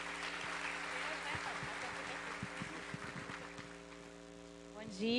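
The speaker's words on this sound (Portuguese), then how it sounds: "Uma salva de palmas para a Thaís." An audience at a church gathering claps for a speaker, a broad wash of applause over a low mains hum, fairly distant and steady before tapering off near the end.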